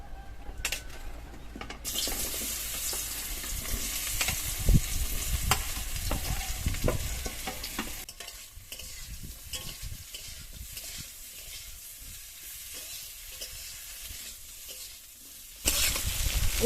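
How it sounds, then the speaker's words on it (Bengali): Okra sizzles loudly in hot mustard oil in a kadai, a continuous crackling fry with occasional stirring scrapes, close and alone with no voices. "এবার ভেন্ডিগুলো দিয়ে ভেজে নেব।"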